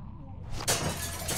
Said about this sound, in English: use the bat to shatter that window so you can reach in